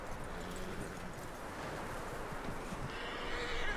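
A horse in Red Dead Redemption 2 whinnies faintly within a steady wash of game ambience and soft hoof clatter, with no talk over it.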